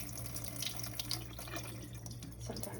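Tap water runs steadily into a kitchen sink while pomegranate seeds are rinsed and drained, a continuous close splashing hiss with small irregular spatters throughout.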